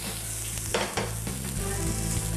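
Ginger and garlic sizzle steadily in a hot frying pan, a continuous crackling hiss with a few brief stirring scrapes and no voices.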